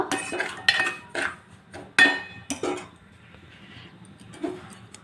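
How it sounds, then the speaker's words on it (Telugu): Semolina roasting in a pan for a moong dal pesarattu upma is stirred with a metal spoon, giving intermittent close scrapes and clinks against the pan with quiet gaps between. "ఇలా కొద్దిగా కలర్ చేంజ్ అయ్యే వరకు వేయించుకోవాలి రవ్వ"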